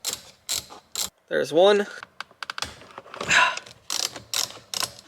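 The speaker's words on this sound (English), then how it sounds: "Then you're going to take a 10 mil and you're going to undo both of those screws." A 10 mm ratchet undoes the screws behind the airbag of a Mazdaspeed6 steering wheel, giving several quick bursts of close mechanical clicking and ratcheting mixed with brief speech.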